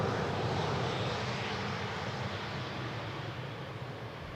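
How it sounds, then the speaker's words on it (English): An Airbus A330 airliner roars loudly overhead near Rijnsburg on approach to Schiphol, a broad steady engine rumble that fades slightly toward the end. "A330 getting loud over Rijnsburg."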